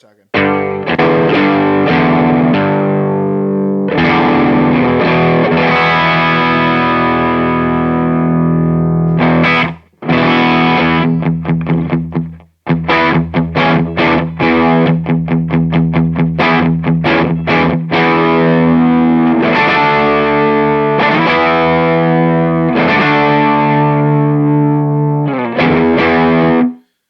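Electric guitar pushed through overdrive and fuzz pedals into a cranked amp plays loud, continuous distorted chords and choppy rhythmic strums, with a brief break midway and a sustained ringing finish.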